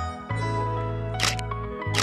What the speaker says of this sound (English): so I will lower the shutter speed with this dial